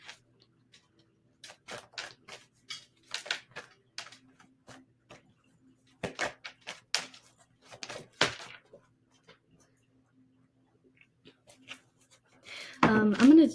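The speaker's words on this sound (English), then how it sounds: "I'm going to shuffle a different deck here" A tarot card deck being shuffled in bursts of soft, crisp riffling and tapping, close and fairly quiet, with pauses of near silence between handfuls and a brief voice near the end.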